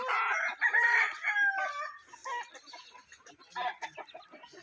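Aseel roosters kept outdoors in harsh winter cold, a loud nearby crow followed by scattered clucks and calls from the fowl, with no talk.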